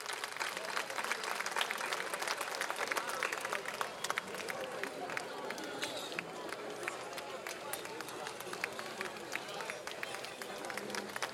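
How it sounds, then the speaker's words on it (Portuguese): An audience applauds a folk dance group from the cultural centre A Ponte Vella in Teo, Galicia, with sustained, dense clapping from a crowd and a voice speaking over it. "E agora sim, um grande aplauso para este grupo cultural Pontevelho"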